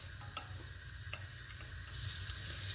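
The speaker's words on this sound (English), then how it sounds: "I'm going to add my onions, and we're just going to stir those and cook them just for a few minutes" Chopped onions sizzling gently in oil in a pan for pumpkin soup, a faint steady hiss with a few soft spoon clicks as they are stirred, quiet and close.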